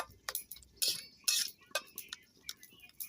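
A metal spatula stirs grated coconut in hot water in a pot, making light irregular clinks and scraping ticks against the metal, close and fairly quiet.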